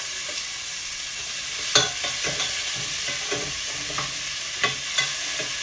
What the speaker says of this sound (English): I'm going to put that coconut oil in with the bacon, just to start rendering that off more so.